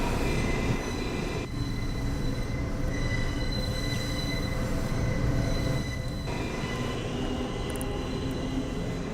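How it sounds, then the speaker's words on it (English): Subway train wheels squealing in the MTAoR game on the BMT/IND Midtown lines, a steady high metallic screech over a continuous rumble of rolling cars, loud and unbroken. "MTAoR train."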